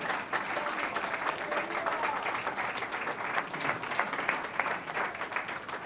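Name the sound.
church congregation applauding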